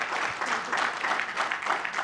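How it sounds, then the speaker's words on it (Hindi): Light, sparse applause from a small audience after a personal testimony at a stage event about thalassemia, a steady patter of claps close by without talking. "इतनी बेहतरीन टेस्टिमोनी के लिए इतनी हल्की तालियां"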